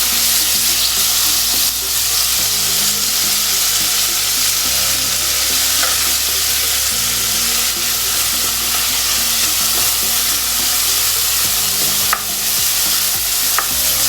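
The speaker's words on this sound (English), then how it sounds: "So now I'm going to stir it." A potato and pea masala frying in a pan gives a loud, continuous sizzle while it is stirred, with occasional scraping and clinks of the spoon against the pan.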